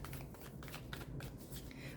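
A deck of tarot cards is shuffled by hand, a quick run of crisp riffling flutters and soft slaps repeating rapidly, close and fairly quiet with nothing else over it.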